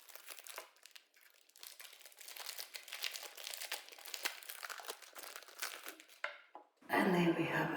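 Thin plastic wrap crinkling and rustling as it is pulled from a coloring book box, a steady close crackle for several seconds that ends in a louder burst of handling near the end.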